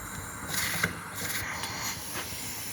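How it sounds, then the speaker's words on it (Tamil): Steam hissing steadily from the holes of a puttu steamer on the stove while red rice chemba puttu cooks, a close, continuous airy hiss with slight surges and small clinks, no voices. "இப்போ 3 ஹோல்ஸ்லேருந்தும் நல்லா ஆவி வருது"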